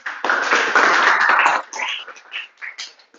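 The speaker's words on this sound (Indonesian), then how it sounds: "kita berikan aplaus untuk Lorenz" Short burst of classroom applause for a student, dense hand clapping for about a second and a half that tapers off into scattered claps.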